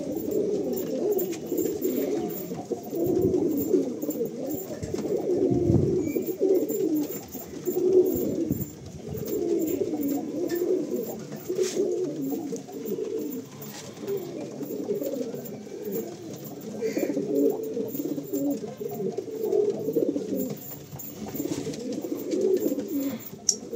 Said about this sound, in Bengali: পায়রা দেখলেই বুঝতে পারবে যে কেমন কোয়ালিটি কি পায়রা আছে